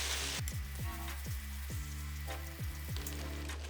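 Noodles and vegetables sizzle hard in a hot wok with stir fry sauce, with a steady loud frying hiss and repeated rhythmic metallic scrapes and clanks as the food is tossed.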